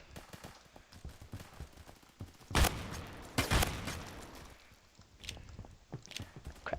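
A shotgun fires several rounds in Phantom Forces, with a couple of loud blasts close together in the middle among fainter clicks and handling sounds, and no talking.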